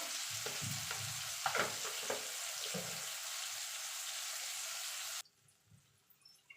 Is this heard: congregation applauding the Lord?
no